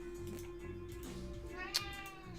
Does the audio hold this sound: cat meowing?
yes